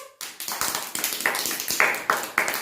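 Several people clap together in a loud, rhythmic burst of steady claps that lasts a few seconds.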